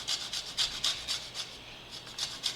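Lime zest grated lightly over a grater, a quick series of soft, close rasping strokes in a steady back-and-forth rhythm, with no talking.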